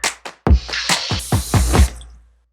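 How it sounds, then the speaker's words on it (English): Soaked dried chickpeas are drained and rinsed, giving a close, loud series of wet splashes and pouring gushes in uneven bursts that trail off into quiet drips, with no speech. "go strain this water off, give them a rinse, and then dump them in a pot and fill it with water"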